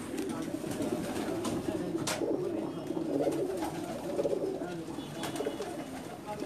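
Pakistani pigeons coo continuously on a rooftop loft in Jeddah, a dense layered murmur of many birds close by, with brief sharp sounds cutting through now and then.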